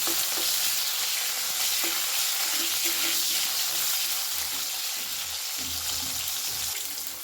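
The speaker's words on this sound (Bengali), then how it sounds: "এবারে আমি এই ভেজে নেব দিয়ে দেবো সামান্য একটু লবণ ভালো করে একটু লাল করে ভেজে নেব" Vegetables for Bengali shukto fry in hot oil with a little salt in a pan, giving a continuous close sizzle with occasional stirring scrapes throughout.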